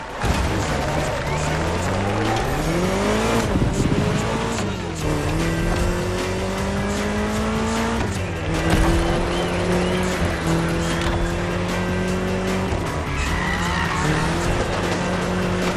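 A car driven in The Crew Motorfest video game, with a loud continuous engine that rises through several gear shifts and repeatedly drops back, mixed with tire noise and a dense in-game soundtrack.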